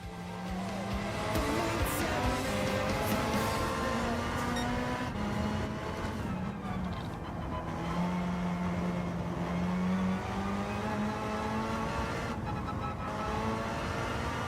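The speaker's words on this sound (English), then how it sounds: "Dude, this really is a cool engine noise." A race car engine in Gran Turismo 7 drones and revs continuously, pitch climbing and dropping through gear changes, loud and close with occasional tire squeal and no talk.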